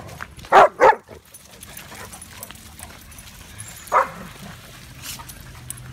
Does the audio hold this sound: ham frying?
no